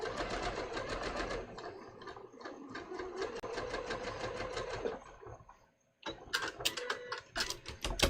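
A home sewing machine stay stitching along the edge of a bias-cut V-neck dress, running in fast rhythmic bursts with a brief pause, then restarting in shorter choppy runs.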